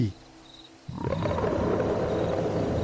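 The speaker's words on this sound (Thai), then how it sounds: "คำรามลั่นสั่นสะเทือนไปทั่วทั้งบริเวณ" A deep, rumbling beast's roar swells in suddenly and holds steady, loud and close, filling the space with a low growl.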